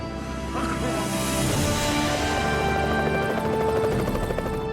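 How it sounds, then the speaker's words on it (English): A helicopter's rotor drone growing louder, a steady whirring, chopping hum with engine whine, close and continuous. "we heard the chopping noise of the helicopter coming"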